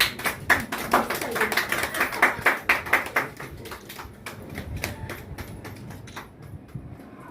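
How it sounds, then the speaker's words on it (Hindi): An audience applauds to welcome a guest at a Global Republican Party Raksha Bandhan celebration, with a burst of close, dense clapping that thins out toward the end. "सभी ने तालियों के साथ स्वागत करना है"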